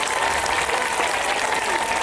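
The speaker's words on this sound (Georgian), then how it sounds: "ცეკვა რომელიც ახლა შესულდა გაგრძელებულ ტაშს ითხოვს" A dance audience at a choreographic ensemble performance breaks into applause, a dense, steady wash of clapping with no pauses throughout.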